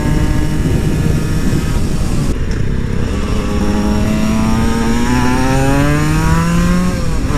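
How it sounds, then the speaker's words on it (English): Loud, close engine roar from a Yamaha MT-03 motorcycle, with a rising, whining tone that sweeps upward through the gears as it accelerates past, steady and dominant throughout. "Oh my god, that's the MT-03 I test rode."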